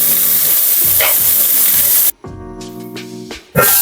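About ten cashew pieces cooking in hot oil in a pan for pumpkin kofta curry, a loud continuous sizzle and hiss with stirring, cutting to near quiet midway before the sizzle returns.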